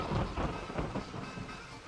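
Rain and thunder in the video game Railroad Tycoon 3: a loud, steady wash of rain with low rolling rumbles swelling and easing throughout, with no voices.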